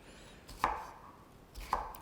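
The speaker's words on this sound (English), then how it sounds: "Dice it the same size as the potatoes." A knife dicing broccoli into small pieces on a cutting board for a broccoli and potato subzi, two crisp close chops about a second apart with near silence between.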